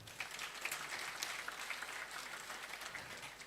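A church congregation applauds with steady, dense clapping from many hands that fills the room at moderate loudness, without speech over it.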